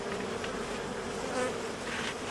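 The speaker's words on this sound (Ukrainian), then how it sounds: "Дивіться, бджіл, бджіл багато." Dense, steady buzzing of many honeybees at an open hive on Ukrainian-frame boxes with three honey supers, a close, continuous drone with no talk.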